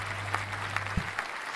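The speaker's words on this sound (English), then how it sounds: "we'll give you an applause" Steady applause at moderate level, a continuous patter of clapping with a low electronic hum underneath and a few louder claps poking through.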